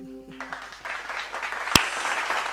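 An audience at an acoustic live performance applauds the singers in a steady, moderate wash of clapping that rises after a brief tonal ending, with one sharp louder clap standing out.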